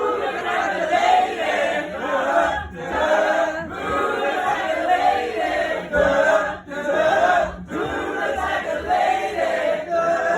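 A pub audience at Afan Ales chants a call-and-response line back and forth across the room, loud rhythmic crowd voices in repeated phrases with brief dips between them.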